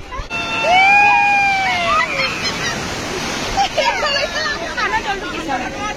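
Surf washes steadily onto Puri beach, a broad rushing roar under lively crowd chatter, with shrill whistle-like calls and honks rising over the noise early on.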